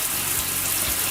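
Shower water running steadily in a cabin bathroom after a repair, a continuous broadband hiss and gush close by with no talking.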